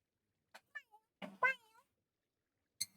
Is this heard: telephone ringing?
no